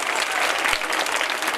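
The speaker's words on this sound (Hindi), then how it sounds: "एक मुकम्मल जोरदार तालियां।" Loud, sustained applause from an audience at an Urdu quiz competition honours the winning children; many hands clap in an even, continuous wash close by.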